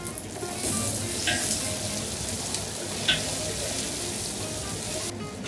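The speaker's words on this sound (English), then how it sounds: "A bit more oil in there. Roughly chopped garlic. All right. And then you add the celery" Chopped celery and roughly chopped garlic sizzle in hot oil at the start of a prawn stock, a steady close crackle with a couple of brief sharper spits and clatters.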